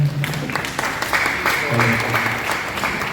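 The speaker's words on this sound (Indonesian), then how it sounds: "beri tepuk tangan semuanya" An audience at a national dialogue forum on millennial voices breaks into applause, a sustained, moderately loud patter of clapping mixed with faint tonal background sounds.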